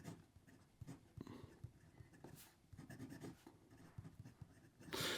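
A Highlander fountain pen with a medium stainless steel nib writes on paper, giving soft, close scratchy strokes in short irregular bursts, quiet overall with a louder rustle at the end.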